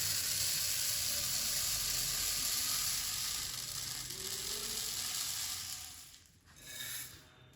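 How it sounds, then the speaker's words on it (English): A sample pours through a funnel into a brass hectolitre measuring chamber with a steady, loud rushing hiss. The hiss fades slightly, then dips and swells briefly near the end. "we are putting the sample in this, carefully filling to the top"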